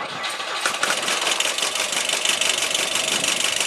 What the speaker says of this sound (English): Volvo B18 engine. It's running.